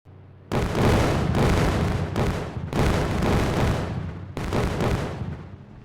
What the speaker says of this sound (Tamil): போலீஸ் ஸ்டேஷன் உள்ளே போய் காரை வெடிக்க வைக்கிறேன்டா